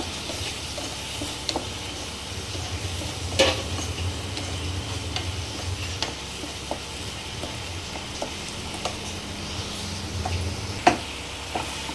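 Masala with chilli powder, salt, turmeric, coriander powder and black pepper frying in a pan alongside tomatoes and onions, a soft continuous sizzle broken by the scattered clicks and taps of a stirring spoon against the pan, no talk.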